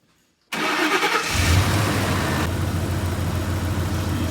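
A Ford F-150 pickup engine cranks briefly and catches, right after a synthetic oil change, then settles into a steady, loud, close idle with no talking.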